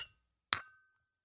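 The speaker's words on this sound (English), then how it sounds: "The interview ended with a clinking of china." A single bright clink of china cups, one sharp close strike ringing briefly before decaying into silence.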